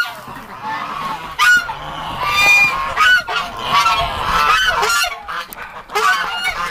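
Geese honk loudly and repeatedly up close in a cold barn, overlapping calls rising in bursts over a steady background.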